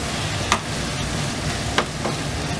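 Stirring prawn fried rice with vegetables such as corn and capsicum in a hot pan: a steady sizzle with a few sharp scrapes of the utensil against the pan, close up and without talk.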